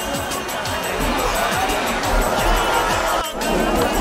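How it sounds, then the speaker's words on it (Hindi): A busy crowd at a street crossing in Kuwait City makes a steady hubbub of overlapping voices and bustle, close and continuous, with a brief dip near the end. "ये आने जाने का उस तरफ क्रॉस करने के लिए बहुत भीड़ है।"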